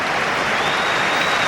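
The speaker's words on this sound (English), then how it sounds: "a well-deserved round of applause for a young man" Football crowd at a 2008-09 Premier League match between West Ham and Fulham applauding a substituted young player, a steady, dense wash of clapping filling the stadium without a break.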